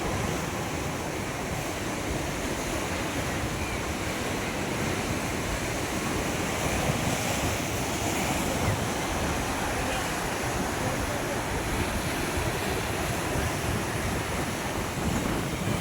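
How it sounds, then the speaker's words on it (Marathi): Foamy sea waves break steadily along the shore at Kanyakumari, a loud continuous surf roar with heavy wind buffeting the microphone throughout. "अतिशय सुंदर आणि फेसाळलेला या ठिकाणी आपल्याला समुद्र पाहायला मिळतो"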